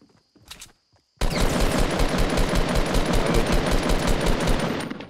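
Gunfire in the Fortnite video game: a couple of quick shots at the start, a brief pause, then a loud sustained rapid burst of automatic fire, close and continuous for several seconds.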